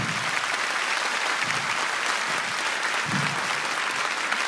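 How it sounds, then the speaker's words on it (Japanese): A crowd at a professional wrestling show in a Tokyo hall claps loudly and continuously for the wrestlers, dense sustained applause filling the venue with no cheering voices. "皆さん大きい拍手を選手に送ってあげてください"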